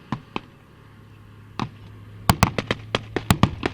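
Gunfire in the war in Syria, heard as sharp isolated cracks at first, then a rapid irregular burst of shots, moderately loud with a steady hum beneath.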